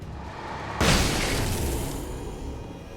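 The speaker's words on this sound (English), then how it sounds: "Are you gonna go down from a flashbang?" A flashbang grenade detonating in the video game Alan Wake on Xbox 360, a single sharp loud bang that rings out into a long fading hiss and rumble.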